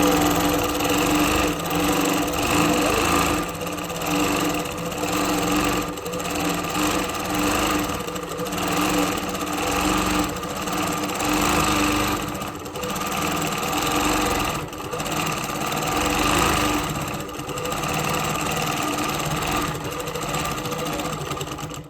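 A Handi Quilter Moxie longarm quilting machine runs steadily, its motor hum and rapid needle stitching staying loud and constant throughout, with no talking.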